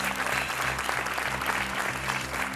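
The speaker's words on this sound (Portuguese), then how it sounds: "Um aplauso para a Catarina." TV studio audience on the RTP 1 game show Joker gives a burst of brisk, dense clapping, even and sustained throughout, with a low rhythmic music bed underneath.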